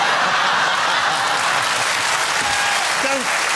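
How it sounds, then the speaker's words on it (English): Studio audience applause on a British chat show, dense and steady throughout, loud and close, with a voice briefly audible over it near the end. "Don't clap that."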